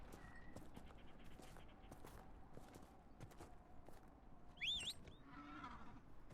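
Horse hooves clip-clopping at a walk in the video game Dragon Age: Inquisition, with a short high whinny near the end over low background ambience.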